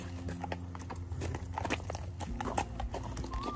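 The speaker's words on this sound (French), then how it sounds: "Je monte un cheval blanc en France." A white horse walks on a trail in the French Alps, its hooves giving a soft, irregular clip-clop close by, faint and mixed with light rustling.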